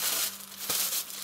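A plastic bag wrapped around a small boxed software package is crinkled and torn open up close, giving several quick, crisp rustling bursts with no speech.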